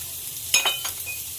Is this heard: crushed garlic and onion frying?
yes